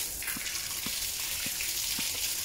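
Water gushes steadily from a mixer tap fitted to an indoor installation, a close, even rushing flow with a few soft knocks underneath.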